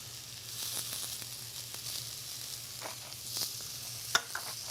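Green onions sizzling in a hot pan on an induction cooktop, a steady soft crackling hiss with a few louder pops and spits, close by and alone without talk.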